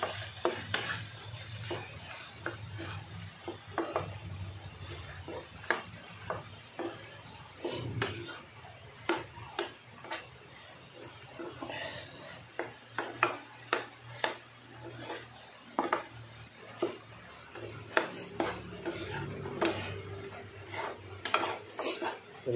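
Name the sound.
stirring tuna sisig with egg in a pan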